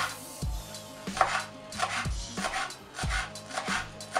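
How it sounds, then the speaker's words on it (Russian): A knife chops onion on a board in a home kitchen, steady rhythmic thuds about twice a second, close and crisp with no talking. "нарезаю лук"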